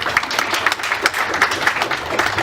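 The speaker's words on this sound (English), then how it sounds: "We can still clap for her." An audience at a school board meeting claps for a student, a brief burst of steady, moderately loud applause from a crowd in a hall.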